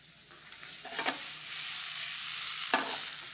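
Onions sauté in a pan with a soft, steady sizzle, and a few quick stirring scrapes come up close.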